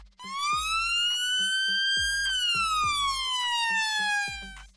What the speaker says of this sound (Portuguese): Assim como no Yelp, a sirene alterna entre as notas graves e agudas.